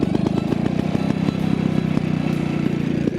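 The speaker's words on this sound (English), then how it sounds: "So now you're going to start it up for us so we can see what a Nera car sounds like." A 1922 Ner-a-car vintage motorcycle runs close by at a vintage rally, its small single-cylinder engine putting out a steady, rapid chuffing and clattering beat for the whole stretch with no talk over it.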